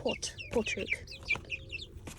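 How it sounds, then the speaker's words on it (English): A cockerel clucks in short, choppy bursts close by, with a quick run of higher chirpy notes, while a person says a word over it. "He is a beautiful cockerel"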